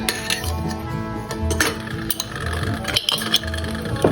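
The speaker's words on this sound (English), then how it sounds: "You want to push the tomatoes down in there." Metal fork clinking and scraping against a glass canning jar while tomatoes are pushed down and packed inside, a steady run of close, small clatters and taps.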